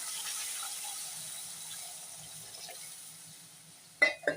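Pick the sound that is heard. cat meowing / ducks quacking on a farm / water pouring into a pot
water pouring into a pot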